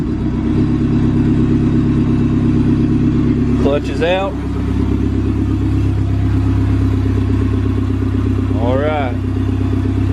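A Dodge Caravan fitted with an SRT4 engine swap idles steadily and loudly throughout, a continuous low rumble with clattery texture, while people talk briefly over it.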